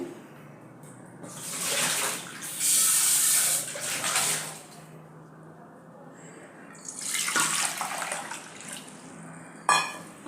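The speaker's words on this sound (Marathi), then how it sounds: "आता हे पाणी ओतून टाकते आणि परत त्याच्यात साधं पाणी घेते" Water splashes and pours in two separate bursts, one early and one later, with quiet gaps around them. A vessel of soaking soybean chunks is emptied, then refilled with plain water.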